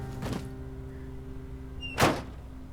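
Truck door closing in the Firewatch video game: two solid thunks, a softer one first and a louder one about two seconds later, over a low steady hum.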